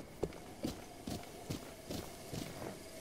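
Hooves of a horse clip-clopping in Zelda Breath of the Wild on Switch, steady rhythmic footfalls close by, about seven even beats over quiet game ambience.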